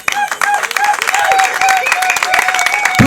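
Wedding guests applaud for the groom, a dense, steady patter of clapping with a crowd murmur and a voice over it, lasting a few seconds.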